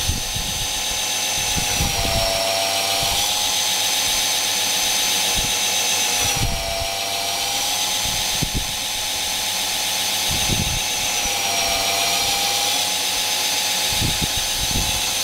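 A knife blade's bevel is polished on a powered grinder with a fine grit: a steady, close mechanical whine with wavering high tones, broken by recurring soft thumps as the steel meets the abrasive.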